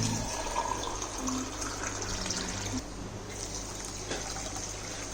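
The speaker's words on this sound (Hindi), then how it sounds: "पानी डालेंगे अपन इसके अंदर।" Water pours steadily over sugar in a pan while jalebi syrup is prepared, a continuous close splashing and trickling that fills the whole clip.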